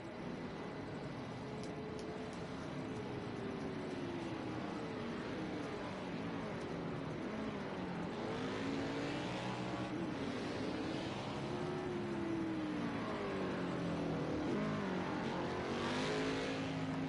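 Stock cars lapping Circuit of the Americas in a racing video game, several engines droning and revving continuously, pitches sweeping up and down as cars shift and pass, loud and steady throughout.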